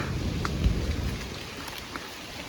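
Steady monsoon rain hisses over a Konkan rice field at sowing time with a low rumble of thunder underneath, a few faint knocks standing out over the wet background.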